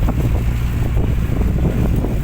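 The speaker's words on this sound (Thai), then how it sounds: "ลมอาจจะแรงนิดนึงนะครับ เนื่องจากพายุ" Strong storm wind buffets an outdoor microphone, a loud continuous roar and rumble with gusty fluctuations, no voices over it.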